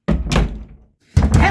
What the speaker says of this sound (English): Don't you slam that door!